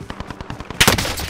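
Rapid video-game gunfire in an online shooter match: a quick string of evenly spaced shots, then a louder, denser burst of fire close by, with no talk over it.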